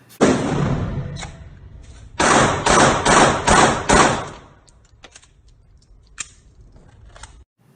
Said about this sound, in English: So that was me shooting it.